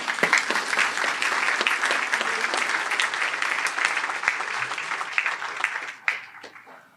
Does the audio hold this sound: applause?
yes